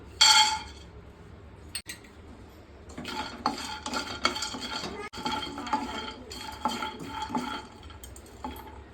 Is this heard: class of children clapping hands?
no